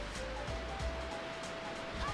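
A waterfall in the video game Bouken Jidai Katsugeki Goemon, a steady broadband rushing wash heard continuously at moderate level, with a faint tonal hum beneath.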